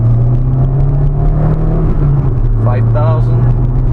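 Inside a 1991 Toyota Starlet GT Turbo as the engine pulls hard in second gear, a steady low drone that climbs in pitch while someone talks over it throughout.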